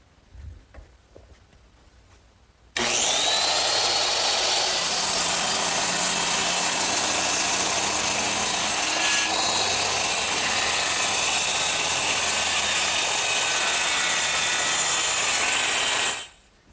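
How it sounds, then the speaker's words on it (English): Circular saw slicing through two wooden gable boards nailed together and clamped in a bench vise, starting with a sudden loud whine that holds steady and close for about fourteen seconds before spinning down, after a few faint handling knocks. "I'm ready to cut them with my circular saw"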